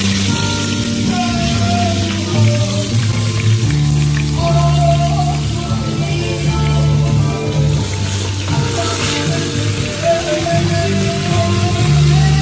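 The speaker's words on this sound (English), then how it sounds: "First, I'm gonna roast the lamb." Lamb shank seasoned with salt and pepper roasting in a pan gives a steady, loud sizzle and crackle of hot fat, continuous throughout with no voices over it.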